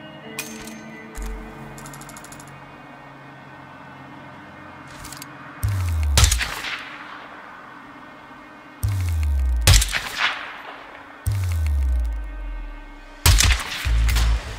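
Sniper rifle shots in Hitman 2's prison level in Russia ring out as several loud, sharp reports with deep rumbling tails, spaced seconds apart over quiet game ambience.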